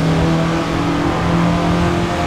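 A 1967 Russell Alexis Mk.14 Formula Ford engine in the Assetto Corsa racing game drones loudly and steadily under throttle, holding a buzzing high-revving note with slight pitch wavers and no talking.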